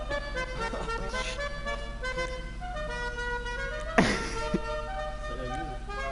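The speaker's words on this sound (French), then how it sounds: "Like a good old obnoxious horn." A car horn honks in the video game GTA 5, a loud blaring toot standing out over game music and engine noise, with a second shorter honk following.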